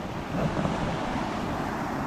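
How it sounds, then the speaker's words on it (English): Downstream glacier meltwater stream flowing on an Alaska snow hike, a dense continuous rushing wash, close and steady with no voices. "from the fresh downstream glacier water which is flowing here"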